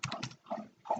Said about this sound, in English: If you hear this sound, it's my dog. She is drinking water.